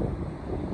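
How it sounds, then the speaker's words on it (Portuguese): Strong wind buffets the microphone at Maitinga beach in Bertioga on a cloudy day, a continuous low rumbling roar with no voice over it. "Muito vento"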